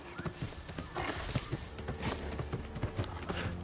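Horse hooves clip-clop at a quick, steady gait in the New World video game, a dense rhythmic patter of hoofbeats close by with no talking over them.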